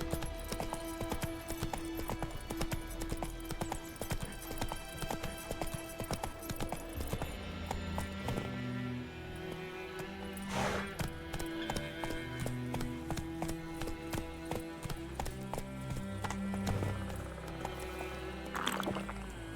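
Roach, the horse in The Witcher 3, gallops with a steady, rhythmic clip-clop of hooves that stays close and continuous under layered game music, with no talking.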